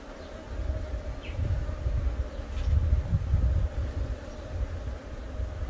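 Honey bees hum around an open beehive frame during queen rearing, a low steady buzzing drone that swells and fades, close and moderate in level with no voices.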